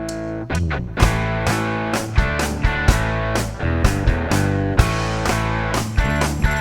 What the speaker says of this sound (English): One guitar is panned all the way to the left,